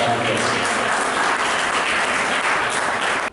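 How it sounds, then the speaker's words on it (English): An audience applauds at a tech group presentation on disability inclusion, loud dense clapping filling the whole stretch before cutting off at the end. "with a hand of applause, please"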